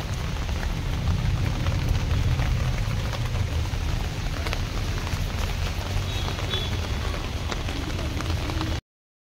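Steady rain pours at an open-air used car market in Guwahati, a dense continuous patter on surfaces and car bodies, loud and close, with no talking.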